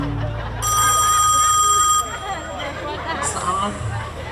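A mobile phone rings with a bright, steady electronic tone for about a second and a half, then a shorter burst later, set against lively stage banter and audience murmur at a Betawi lenong comedy performance.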